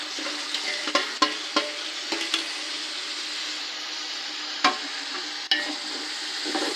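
Masala and tomatoes frying on a low flame for country chicken biryani, a steady close sizzle broken by occasional stirring scrapes and soft knocks of a spoon against the pan.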